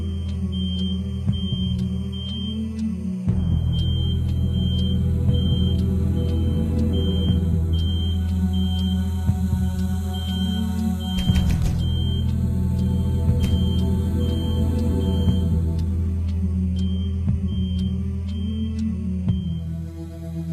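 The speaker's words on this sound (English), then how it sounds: "The smoke alarm was in another unit" A smoke alarm sounds a continuous electronic tone steadily throughout over a dense background of noise, with brief louder bursts partway through.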